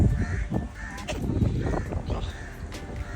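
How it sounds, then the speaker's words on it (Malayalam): Several crows caw repeatedly nearby, their harsh calls overlapping against a noisy outdoor background. "ഫുള്ള് കാക്കകളൊക്കെ കരയുന്ന ഒച്ച കേൾക്കുന്നില്ലേ?"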